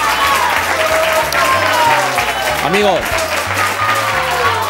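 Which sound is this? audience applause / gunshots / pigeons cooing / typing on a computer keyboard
audience applause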